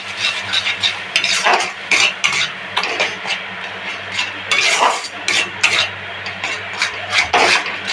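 Mashed bhorta with slit green chillies is stirred in a pan, giving close, repeated scraping and rasping strokes at an uneven rhythm over a low steady hum, with no voices.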